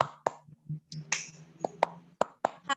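Sharp hand claps in a group clapping game, several distinct claps spaced irregularly with brief vocal calls in between, close and moderately loud.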